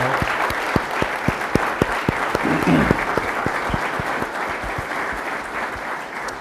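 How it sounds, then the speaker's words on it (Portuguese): A conference room full of people claps steadily, the applause sustained and fairly loud throughout, with a few sharper claps standing out near the front. "Peço então uma salva de palmas"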